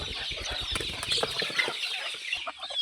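Country chicken chicks crowd around poultry feed, a busy mix of peeps, clucks and pecking taps close by, with rustling movement that thins out toward the end.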